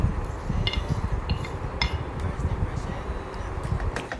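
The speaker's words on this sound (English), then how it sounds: "Mix them all thoroughly." A tuna fish cutlet mixture with vinegar and golden fried onions being worked by hand in a bowl, giving a steady soft squelching rustle with a few light clinks of dishware, close and fairly quiet.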